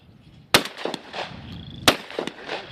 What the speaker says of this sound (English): Dozens of hunters took aim at shooting clay pigeons this morning at Hunters Point near Humboldt.